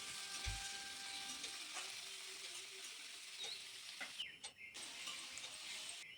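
Potatoes and bitter gourd fry in oil in a pan with a soft, continuous sizzle, broken near the end by a few scraping stirs of a spatula; quiet throughout with no talking.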